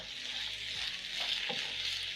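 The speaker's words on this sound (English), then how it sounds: "using my spatula, I'm going to break down the minced meat as it cooks" Minced meat sizzles in a non-stick pan while a spatula breaks it up, a soft even frying hiss with a few faint scrapes and taps, no voices.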